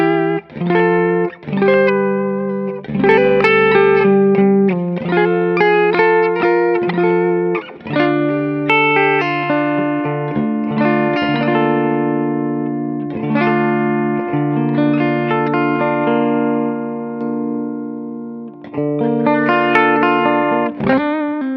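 Clean electric guitar through a Fishman Fluence Classic Humbucker pickup, playing chords and melodic lines continuously, ringing and bright with light effects and reverb, alone without talk.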